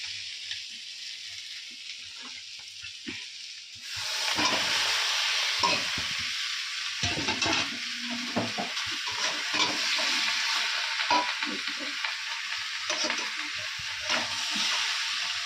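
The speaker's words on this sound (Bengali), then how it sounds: "অলরেডি কষানো হয়ে গেছে মাংসটা দিয়ে দিই" Mutton sizzles loudly in a hot pan, starting abruptly after a few quiet seconds and continuing as a dense, steady crackle with occasional stirring knocks; no one talks.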